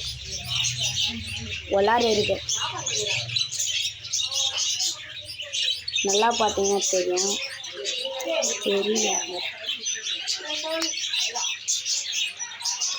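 Many sparrows with chicks chirp and tweet in a dense, continuous chatter close by, while someone talks over them throughout.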